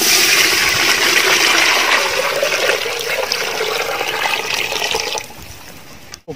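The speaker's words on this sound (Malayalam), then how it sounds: "അതിൽ മുക്കാ പാത്രം വെള്ളം ഒഴിച്ചിട്ടുണ്ട്." Water is poured into a cooking pot for Thalassery dum chicken biryani, a steady gushing splash lasting about five seconds before it cuts off and falls quiet, with no talk.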